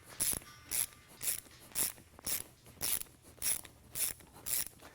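A Motion Pro Jumbo chain breaker pushing a pin through a motorcycle chain, heard as ten evenly spaced metallic ratcheting clicks, close and crisp, with no voices.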